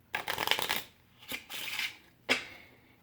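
A riffle shuffle of a small 24-card deck of plastic-core playing cards: three close bursts of crisp, snapping plastic flutter, the last a short sharp snap, with no talking.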